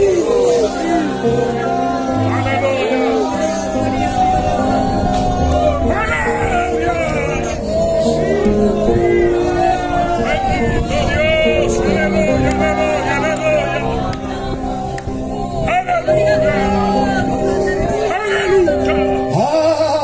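A church congregation at an evangelical service shouts together over loud music, a dense, continuous crowd roar that fills the space throughout.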